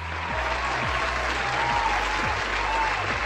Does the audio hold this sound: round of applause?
yes